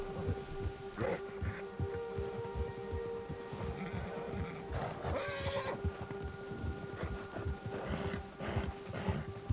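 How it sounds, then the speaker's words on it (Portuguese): Horse neighing after being frightened by a bear while hunting in Red Dead Redemption 2, whinnies rising over a busy outdoor game soundscape of hooves and ambience. "Urso assustou o cavalo."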